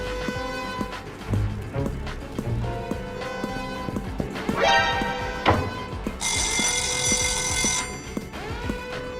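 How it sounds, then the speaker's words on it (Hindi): A fire alarm sound effect for a cartoon heist, ringing steadily under electronic tones and music, with a piercing bell-like burst near the end. "मैंने फायर अलार्म भी शुरू कर दिए हैं, सब कंफ्यूज हो जाएंगे।"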